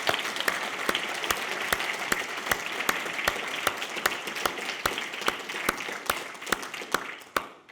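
Audience applause fills a hall at the Inspiring Aberdeenshire 2024 awards night, a dense, steady wash of clapping punctuated by sharp, regular individual claps, fairly close and sustained throughout.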